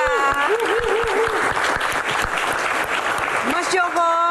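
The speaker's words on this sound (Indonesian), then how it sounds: "Kita berikan tepuk tangan yang paling meriah." Applause fills the room for guests at an Indonesian film Q&A event, a dense continuous clatter of clapping with a voice running over it at the start and again near the end.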